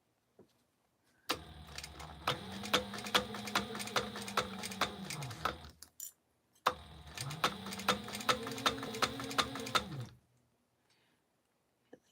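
A sewing machine stitches a crossbody bag in two bursts of rapid, even needle clatter, each ramping up to speed and slowing to a stop, separated by a short pause, close and clear without talk.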